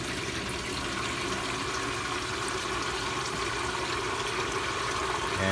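A pump drains water through a wet/dry sump trickle filter, making a continuous splashing, gurgling flow with a low pump hum underneath, loud and unbroken, with no voices.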